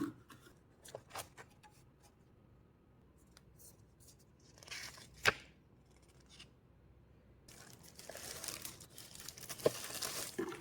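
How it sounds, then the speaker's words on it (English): Packaging for an Epomaker HE75 V2 keyboard is opened, with soft crinkling, scraping and sharp snips and tears, quiet and close, followed by a longer stretch of louder rustling plastic near the end. "let's get into the unboxing."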